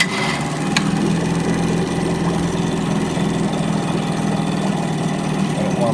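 A 1968 Johnson 3hp outboard motor runs in a test tank, a steady, loud, close buzzing idle with a slight knock throughout.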